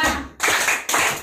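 Two sharp hand claps from a group singing the children's action song at a fourth birthday party, each clap a sudden loud burst with a short decay, spaced about half a second apart.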